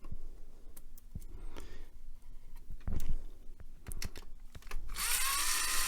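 A screwdriver backs machine screws out of the metal shield on a Sanyo Betamax VCR, with faint irregular clicks and scraping taps, then a brighter rattling burst near the end.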